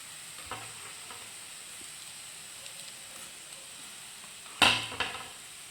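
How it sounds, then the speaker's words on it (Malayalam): Sliced shallots and onions for mutton chops are stirred as they fry in a pan, giving a soft continuous sizzle with scattered scrapes and one louder clatter of the spoon near the end. "ഇളക്കി കൊടുക്കാം ഉള്ളിയൊക്കെ നല്ലോണം വാടിയിട്ടുണ്ട്"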